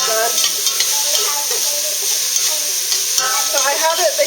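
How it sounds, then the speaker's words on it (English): Mushrooms sauté in a little oil in a pan over high heat, giving a loud, steady sizzle close up, with scraping stirs and light crackles throughout. "Okay, so we're sauteing this up."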